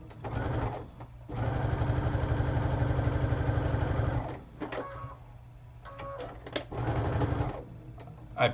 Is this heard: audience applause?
no